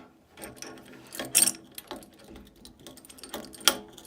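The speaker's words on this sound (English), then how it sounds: "So I want to take the puller off." A blade puller being worked off a Knapp Monarch appliance, giving quiet close metallic clicks and ratcheting scrapes in irregular bursts, with a couple of sharper louder clanks and no talking.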